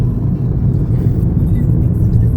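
A car drives through a long road tunnel in the mountains of northwest Mallorca, nearing the exit, its steady loud low rumble and tyre roar filling the space with no letup.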